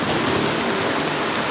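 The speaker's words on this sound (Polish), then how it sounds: "Zaczął padać deszcz, zastała nas burza." Steady broadband hiss of heavy rain pouring down during a thunderstorm near Galata Tower in Istanbul, continuous and fairly loud, with no distinct thunder clap standing out.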